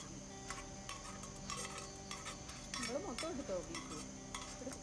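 A spatula mixes boiled tapioca (kappa) with cooked beef in a pan, giving soft, faint scraping and tapping strokes at an irregular pace over a steady low background hum.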